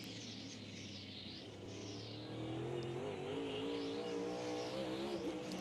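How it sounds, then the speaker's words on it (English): A NASCAR Cup race car accelerates off a corner at the Clash at Bowman Gray, its engine note rising and growing louder in a sustained rev heard from the in-car view, with faint tire squeal. "You could really hear the car as it comes up off the corner."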